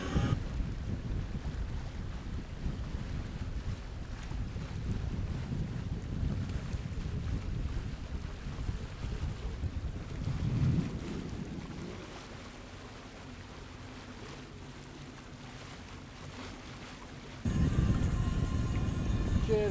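A sailboat motoring under engine power on arrival at Porto Torres, Sardinia, with a steady low engine drone and water and wind noise throughout; the rumble drops back for a few seconds before the wind-buffeted engine noise returns loudly near the end.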